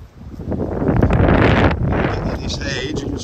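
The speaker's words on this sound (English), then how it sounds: "you can just hear that wind, no doubt. That's coming out really bad on the video." Strong wind buffeting a microphone outdoors near a hedge on a farm with calves, a loud continuous roaring rumble that swells and rolls throughout, drowning out everything else.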